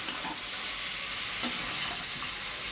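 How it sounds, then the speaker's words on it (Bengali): Meat with potatoes and spices sautéing in a pan, a steady close sizzle with light scraping stirs and one sharp clink midway, no voices. "আলু আর সব মশলা দিয়ে এখন মাংসটা কষাচ্ছি"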